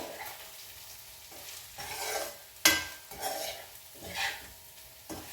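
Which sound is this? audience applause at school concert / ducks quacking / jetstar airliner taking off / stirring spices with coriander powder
stirring spices with coriander powder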